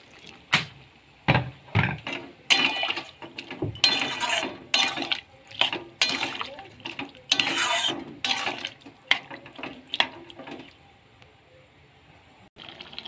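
Water goes into a pot of shukto with green banana, potato, drumsticks and lentil dumplings, heard as a run of clinks, splashes and stirring scrapes in irregular bursts, fairly close with quiet gaps between.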